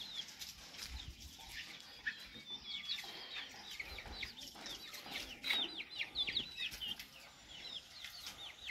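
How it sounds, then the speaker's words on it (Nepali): Several chickens cluck and chatter without a break, with wing flaps now and then. The sound is soft and somewhat distant, with no voices. "यहाँ त पुरा उयो गर्दैछ त हौ भने कुखुराले."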